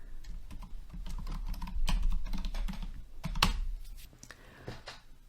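A login username and password being typed on a computer keyboard: a quick, steady patter of close key clicks lasting a few seconds, heard alone.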